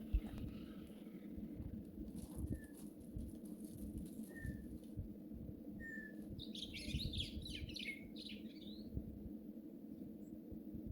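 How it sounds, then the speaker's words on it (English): Birds chirp with short high tweets and a brief burst of rapid twittering, fairly faint over a steady low background rumble. "you got to check out this bird"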